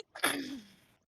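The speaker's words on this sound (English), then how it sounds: "Sorry, I coughed." One person lets out a single abrupt cough, a short breathy burst that fades within about a second, close and alone against near silence.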